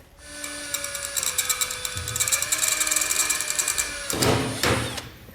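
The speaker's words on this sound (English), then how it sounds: "we started it with our drill bit" A drill whines steadily while boring into a stainless steel plate, with rapid rattling grind and a rising high-pitched squeal, followed by a couple of harsher bursts near the end.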